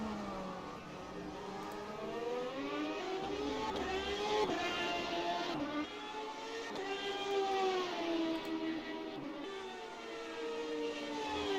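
Classic McLaren Formula 1 car in the rFactor 2 racing game at Magny-Cours, its engine screaming steadily with rising and falling revs through gear changes, loud and close throughout with no talk.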